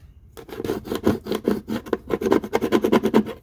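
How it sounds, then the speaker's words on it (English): Vinyl being scraped down onto a DIY makeup case, a rapid run of short, loud rasping strokes close by, each pass rubbing in quick rhythm after a brief silent start. "Scrape, scrape, scrape. Scrape some more."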